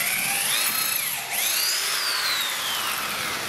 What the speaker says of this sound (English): you can clamp 2 pieces of wood, 1 to each side of the plexiglass, and drill through the plexi wood sandwich